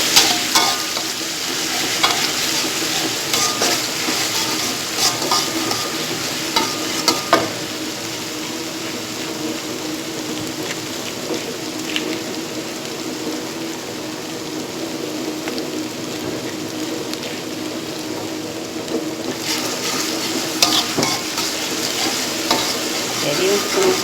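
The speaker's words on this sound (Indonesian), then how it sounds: "Ini kita tumis sampai harum ya." Spice paste stir-fried in a pan until fragrant, with a steady, close sizzle and occasional scrapes of stirring running continuously throughout.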